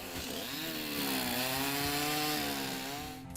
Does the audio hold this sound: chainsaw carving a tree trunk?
yes